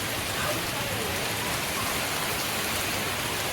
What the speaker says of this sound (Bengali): জোরে বৃষ্টিটা এসছে প্রচুর জোরে।